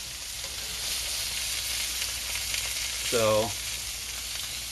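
Scallops sizzle in butter on a grill with a loud, constant hiss close by, and a brief spoken word rises over the frying near the end.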